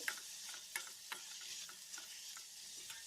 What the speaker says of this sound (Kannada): ಸೌತೆಕಾಯಿನ 1-2 ನಿಮಿಷ ಇದನ್ನು ಫ್ರೈ ಮಾಡ್ಕೋಬೇಕು.